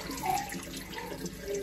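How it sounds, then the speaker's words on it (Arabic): Water runs steadily from a tap into a sink during face washing, a soft continuous splash at moderate distance. "هي نغسل وجهي"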